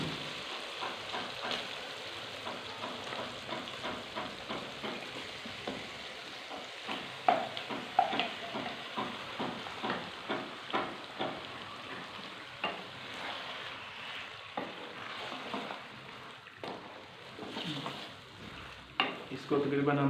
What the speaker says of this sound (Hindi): अब इसमें हम चिकन शामिल करते हैं, जो कि हमने पहले से मसाला लगा के रखा हुआ था।